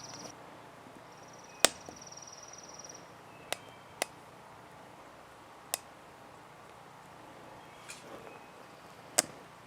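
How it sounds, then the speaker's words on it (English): Pine wood burning in an Amazon smokeless firepit gives off about half a dozen sharp, isolated pops and cracks at irregular intervals over a faint, steady hiss, with a thin high chirping in the background and no talking. "I do hear the popping that you typically hear out of pine."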